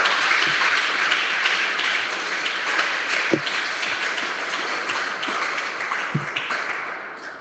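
Church congregation at a French-language service breaks into sustained applause, a dense, even patter of many hands with a few sharper knocks, fading slightly toward the end.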